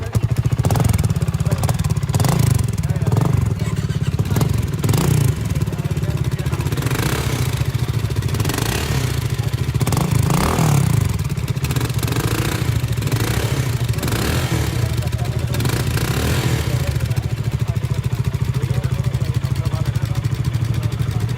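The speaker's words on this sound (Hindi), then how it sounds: "बाइक को विद बैफल चला सकते हो जिसमें थोड़ी म्यूटेड साउंड होगी" A BSA Gold Star 650 motorcycle engine runs steadily up close, its exhaust putting out a deep, throbbing beat with occasional small revs and mechanical clatter.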